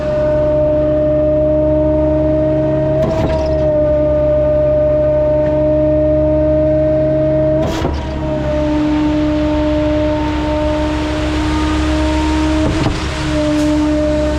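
Steady mechanical droning with layered tonal hums from a concrete placing boom pump working at a high-rise construction site, punctuated by three sharp knocks or clunks spaced several seconds apart.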